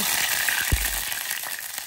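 Water added to a pan of browned, fragrant fried garlic, giving a steady hiss and sizzle with a brief low splash partway through.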